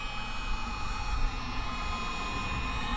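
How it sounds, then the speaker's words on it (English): A heat gun blows steadily while warming a plastic truck fender, a constant loud rushing roar held close, alone without talk. "Now we're gonna get our heat gun and let's start heating this up."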